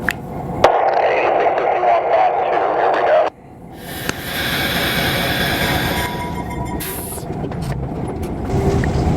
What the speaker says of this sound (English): Okay to bring the train back.